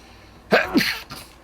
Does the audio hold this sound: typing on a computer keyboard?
no